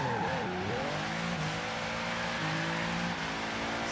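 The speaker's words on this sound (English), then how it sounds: "Bi-turbo V8 in here. This thing sounds like a Lamborghini, man." A Mercedes-AMG G65 with a bi-turbo V8 revs and strains in Forza Horizon 3, a loud, continuous engine note rising and shifting in pitch with tire squeal as the car struggles to drift at low revs.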